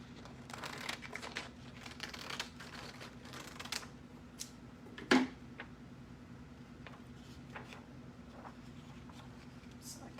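Paper being cut for a grunge-and-glam stencil and decoupage craft project: soft, scattered snips and crinkly handling sounds, close and fairly quiet, with one sharper, louder cut near the middle.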